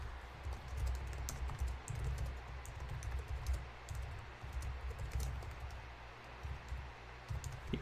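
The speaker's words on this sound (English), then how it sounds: "You can hear me typing the poll." Steady typing on a computer keyboard, quick irregular key clicks close to the microphone, continuing throughout with low background rumble.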